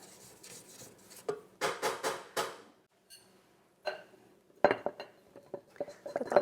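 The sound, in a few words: scraping down the sides of a mixing bowl of dough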